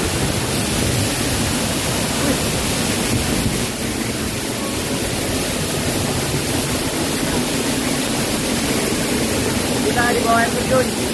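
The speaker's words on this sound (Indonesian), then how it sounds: "Kita di bawah air terjun." Aek Martua waterfall pours in a loud, steady broadband rush, heard up close from beneath the falls, with voices faintly present under the roar.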